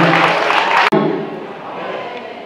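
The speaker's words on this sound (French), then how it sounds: "On applaudit à la gloire de Dieu" Congregation applauding during a wedding ceremony in a church setting, a dense wash of clapping that drops off abruptly after a sharp cut, leaving a softer sustained room sound.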